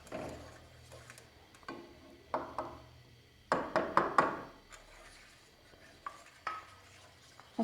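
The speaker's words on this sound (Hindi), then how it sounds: "अच्छे से मिक्स कर लें ताकि इसमें गुठलियाँ ना बने।" Cornflour being mixed into eggless chocolate cake batter in a pot, with irregular spoon knocks, scrapes and clinks against the pot, close and fairly sharp, with quiet gaps between bursts of stirring.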